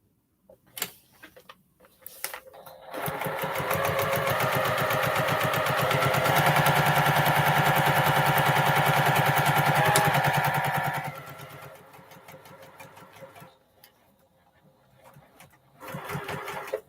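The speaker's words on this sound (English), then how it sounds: "Now I'm sewing down the seam of guidelines of number 6 and number 7." A home sewing machine stitches a seam in a long continuous run, a loud, rapid, steady mechanical whirr lasting about eight seconds, framed by scattered quieter clicks and handling knocks before and after.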